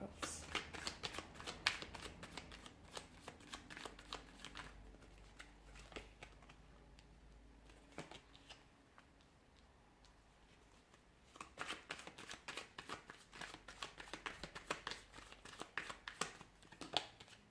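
Tarot cards shuffled by hand in quick, dense bursts of riffling and flicking, loud at the start and end with a quieter stretch in the middle, close to the listener.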